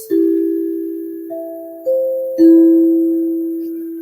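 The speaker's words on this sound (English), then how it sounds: "This is called the free notes." Four bright metal notes struck one after another on a free notes metallophone, each ringing on and overlapping into a clear sustained tone, close and fairly loud.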